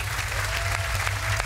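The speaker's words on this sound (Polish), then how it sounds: "Brawa, brawa, brawa dla Kuby!" Dense applause from a television studio audience on a brain-skills game show fills the room, steady and loud throughout, over a low constant hum.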